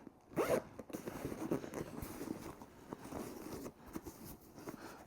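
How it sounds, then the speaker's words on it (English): A zipper on a bag is pulled open and closed in several quick, scratchy strokes, close up and quiet, with faint handling of fabric. "There's another zipper back here."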